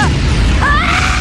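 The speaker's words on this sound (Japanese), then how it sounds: "第三の爆弾。" A bomb going off in an anime, one loud, close boom that fills the whole moment, with a deep rumble and a rising whistling tone over the blast.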